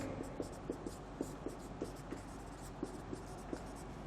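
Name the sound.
teacher writing definition on board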